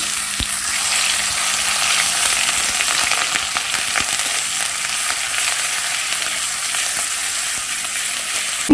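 Onion paste fries in oil with cumin and carom seeds, giving off a loud, steady sizzle close up with faint clicks and stirring scrapes throughout.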